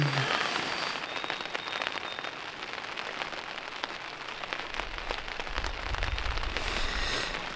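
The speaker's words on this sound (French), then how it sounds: "J'ai eu de la pluie toute la nuit." Steady rain patters on a bivouac shelter beside a lake, dense crackling drops close by with a few heavier taps, continuous and alone.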